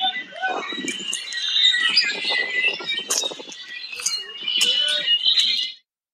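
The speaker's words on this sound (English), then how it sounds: "This is the actual sound of the birds over on the hiking trail at Patagonia Lake." Dense birdsong fills a hiking trail at Patagonia Lake, with many overlapping chirps, trills and whistles sounding close and loud, continuing steadily for several seconds before cutting off abruptly.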